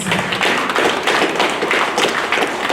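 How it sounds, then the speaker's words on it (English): An audience at a Women's Month proclamation signing claps in a dense, steady round of applause, loud and close throughout with no voices over it. "May we please give them a round of applause"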